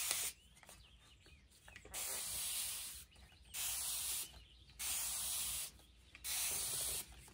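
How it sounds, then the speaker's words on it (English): Water sprayed from a spray bottle onto fabric during a thread, acrylic ink and paint washability test: four clear, sustained hissing bursts of about a second each, separated by short pauses, close and alone. "I'm going to spray some more."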